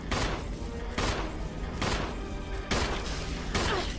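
Gunfire in the Resident Evil HD video game, heavy shots booming at a roughly even pace of about one per second, loud and close, each with a short decaying tail.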